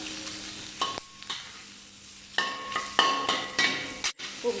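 Vegetables stir-fry in a pan, a constant sizzle punctuated by repeated scraping and clanking of a utensil against metal at an irregular rhythm, close and moderately loud, without talk.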